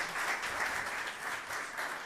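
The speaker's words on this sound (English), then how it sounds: "let's give her another round of applause" A conference audience gives a round of applause, steady massed clapping that holds at an even level throughout.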